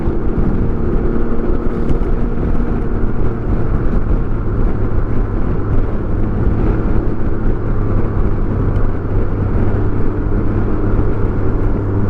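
A 2024 Can-Am Ryker Sport three-wheeler cruises on a ride, its engine a loud, steady low drone under heavy wind buffeting, with no clear revving.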